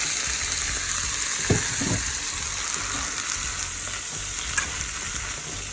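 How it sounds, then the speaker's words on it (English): Spinach and caramelized onions sauté in a pan with a loud, steady sizzle. An occasional soft stir or scrape cuts through, and no one speaks. "Now let's go ahead and add the spinach."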